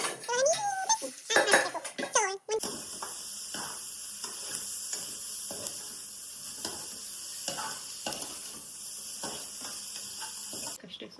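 Ground spice mix dropped into a hot pan for mutton sambar, a sudden loud hiss that settles into steady frying sizzle, with people talking over it at the start.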